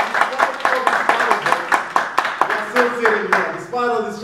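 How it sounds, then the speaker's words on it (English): An audience applauds in a hall at a motivational talk, scattered claps mixing with loud talk and cheering over a few seconds. "I want each and every single one of you to give yourself an applause"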